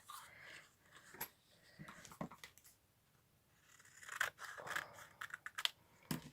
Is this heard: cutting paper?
yes